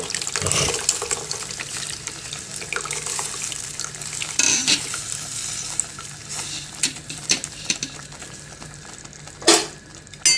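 Tamarind water is poured into a hot cooking pan, hissing and sizzling with scattered bubbling and clinks of a spoon; no talking.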